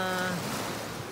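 Strong surf breaks along an Atlantic-facing beach at Kitanowaki, Anan City, a steady loud wash of waves with wind noise, no talk.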